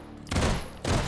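Two rapid bursts of automatic gunfire from the Kalashnaluger, a hybrid firearm in the VR shooter H3VR, loud and close, separated by a brief pause.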